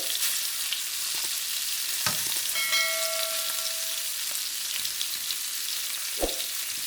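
Shrimp sizzle and brown in a pan, making a continuous frying hiss with a few soft clinks and a brief ringing tone partway through; no voices are heard.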